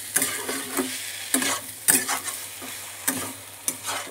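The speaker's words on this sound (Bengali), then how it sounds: "এবার আমি মশলার সাথে কষিয়ে নেব সব একসঙ্গে" Chicken kofta curry masala scraped and stirred in a pan as it sautés, a steady close sizzle broken by a series of sharp spatula scrapes and stirs every half second or so.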